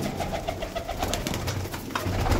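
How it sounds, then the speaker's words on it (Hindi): Pigeons in Lahore coming down to land and coo in soft overlapping murmurs, with scattered wing flutters and rustling over a dense, fairly loud background. "देखें नीचे आ रहे हैं माशाल्लाह कबूतर"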